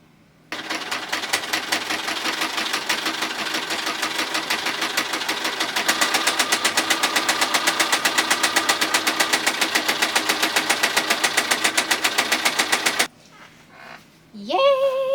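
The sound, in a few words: sewing machine stitching pajama fabric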